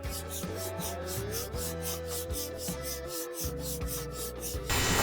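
Sandpaper of 80 grit dry-sands the bodywork of a 1972 El Camino. Rapid, rhythmic back-and-forth strokes rasp up close, steady and loud, with a short pause partway through.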